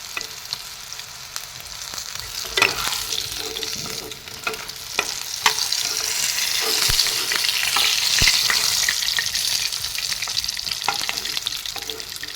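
Fish pieces for a curry with green peas and cauliflower fry in hot oil, a steady close sizzle with scattered pops and occasional stirring scrapes, no talking.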